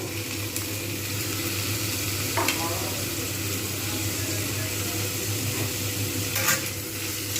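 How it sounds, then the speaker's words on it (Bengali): Sliced potatoes and softened, browning onions sizzle in a pan while being stirred, with a steady close frying hiss and a few scraping stir strokes, and a voice speaks faintly underneath. "জাস্ট একটু নাড়িয়ে নেব"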